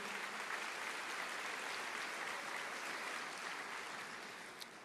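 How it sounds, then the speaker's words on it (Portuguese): A church congregation applauding, with steady, dense clapping from many hands filling the room and fading slightly toward the end. "Glória a Deus, aplauda ao Senhor."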